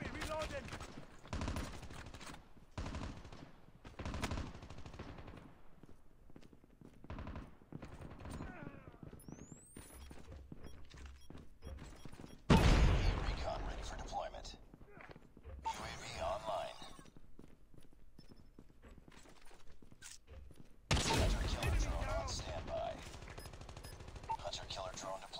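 Bursts of automatic gunfire from the Call of Duty: Mobile video game, rapid repeated shots in a loud, busy game mix with two especially heavy volleys, other game sounds under the fire.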